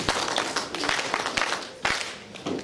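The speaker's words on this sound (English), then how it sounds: "Can we give them a round of applause?" Scattered applause at a municipal budget meeting honoring a roads and transport department, with distinct individual claps standing out over a moderate, uneven crowd clatter.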